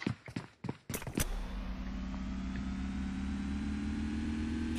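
A video game tractor engine idling, a steady low mechanical hum that starts after a few sharp knocks and clatters and then runs on evenly at moderate level.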